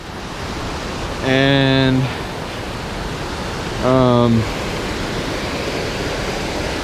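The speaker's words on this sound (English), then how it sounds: "Another creek crossing" Rushing creek water at a trail crossing on the Lost Man Lake Trail, a steady, loud broadband roar that fills the whole clip, with a voice briefly speaking twice over it.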